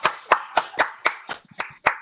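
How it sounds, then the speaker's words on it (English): Sparse hand clapping from a few unmuted participants on an online student leadership awards call, about eight distinct claps in a loose, slightly irregular rhythm, close and thin rather than a full crowd. "we're going to give a round of applause to all of our winners tonight"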